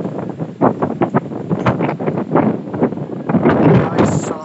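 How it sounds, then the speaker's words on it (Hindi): Strong wind gusts roar and buffet a microphone outdoors near a building, a loud, rushing, uneven blast that swells and fades in waves, with a voice partly heard under it. "क्या मस्त तेज हवा चल रहा है"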